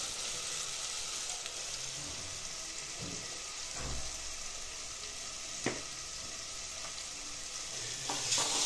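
Ginger, garlic, onion, tomato and bay leaf frying in hot oil for a matki rice dish, sizzling in a steady close crackle, with occasional clinks of stirring.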